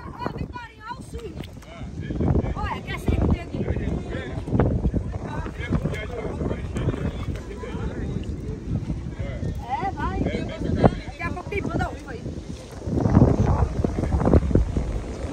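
Wind gusts buffet the microphone on a slow motorboat ride at a beach in Recife. A low engine drone runs underneath, and people chat over the noise throughout.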